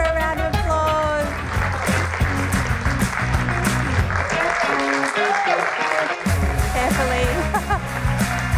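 Studio audience applause for a guest on a daytime TV talk segment, a steady loud clapping wash with cheers and voices mixed in, dipping briefly near the middle before resuming.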